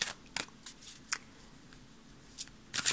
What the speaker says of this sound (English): let's shuffle a little more